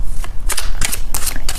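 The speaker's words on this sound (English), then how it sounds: "I am shuffling the cards" Tarot cards are riffled and shuffled by hand in a close, crisp series of bursts and flicks at a quick, uneven rhythm during a love tarot reading.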